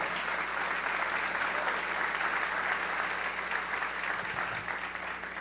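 A church congregation applauds in steady, continuous clapping that holds at an even level from start to finish, with no break and no voice rising above it.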